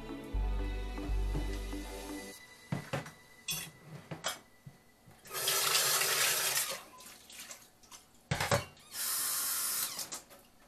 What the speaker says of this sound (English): So I put it in my mixer, all right?